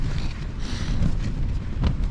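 Strong wind buffets a wild camp, a loud, continuous roaring rush with heavy gusts battering the microphone and no voices.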